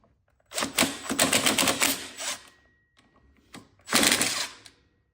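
A power tool rattles in two rapid bursts, loud and close, as bolts come off the clutch cover of a Yamaha YFZ 450R ATV, with a short pause and faint clicks between.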